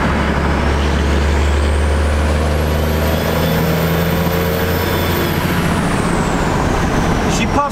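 A 12 valve Cummins diesel engine labours under load in a truck, a loud, dense low rumble held for several seconds with a long rising whine above it that fades near the end, where a brief hiss cuts in.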